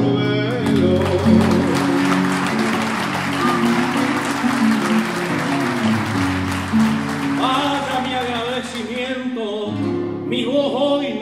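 Applause from the audience at a payada for the payador, clapping spread beneath sustained guitar chords and musical tones, fading toward the end as the music continues.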